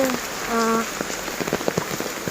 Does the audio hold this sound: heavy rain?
yes